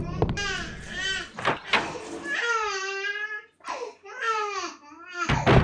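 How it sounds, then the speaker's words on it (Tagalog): A baby cries in wailing bursts near the microphone, the cries rising and falling with short gaps between them, heard alone and fairly loud. "Umiyak ng baby ko."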